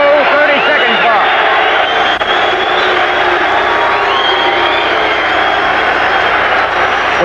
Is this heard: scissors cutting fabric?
no